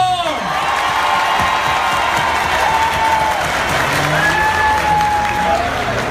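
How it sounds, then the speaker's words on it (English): An audience at a training event in Abuja claps and cheers for a contestant, with steady crowd applause lasting throughout, whoops and voices mixed in, and a few tonal calls rising above the noise. "I said just clap"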